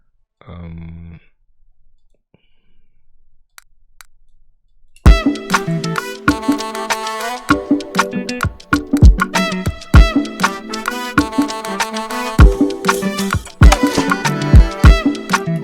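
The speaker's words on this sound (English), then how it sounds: "percussion loop in his juice kit." A brief muffled thump and faint ticks, then a busy, punchy Afrobeat percussion loop from a producer drum kit, clicky hits and low thumps playing loudly and steadily to the end.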